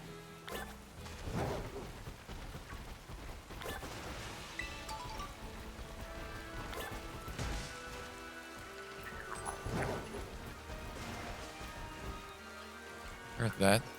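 Rain falling in the Pokemon Scarlet video game, a steady soft patter of raindrops with occasional heavier hits throughout, faint and quiet, with a voice talking over it.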